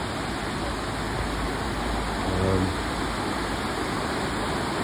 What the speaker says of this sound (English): the waterfall is sort of streaming to the left of that house, and it's literally streaming under this house.